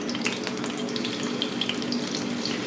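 Chicken for restaurant-style chow mein fries in a pan with a dense, constant hiss and sizzle, loud and close, with faint crackles on top and no talking.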